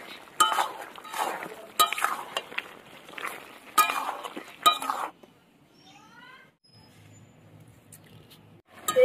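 Chicken and fried potatoes get stirred and sautéed in a pot, with a spoon clinking and scraping at irregular intervals over a light sizzle, followed by a quieter stretch and some faint chirps.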